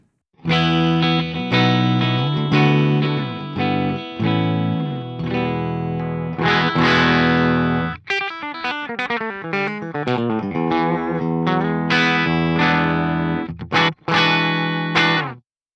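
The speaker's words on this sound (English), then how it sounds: "make it a lot more boxy and upfront sounding in the mids by pushing them almost all the way" Clean electric guitar played through the Archetype Nolly X amp plugin with the mids pushed nearly to maximum for a boxy, upfront tone; strummed chords ring out, then a run of quicker picked notes follows, loud and dry with no voices.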